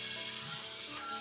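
Spices sizzle with fried onions in a pan over a low flame, a soft steady crackle that stays faint and even for a brief moment.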